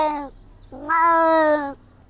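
A cat meows twice up close, a short call followed by a longer, drawn-out meow rising and falling, heard alone with no talking.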